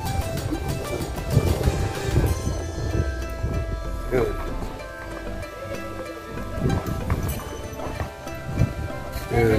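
Pony hooves clip-clop at the OASIS Activity Farm Park during a company family day, faint irregular thuds mixed with a busy crowd background and people talking nearby.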